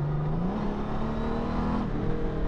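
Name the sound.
touring motorcycle accelerating with automatic gearbox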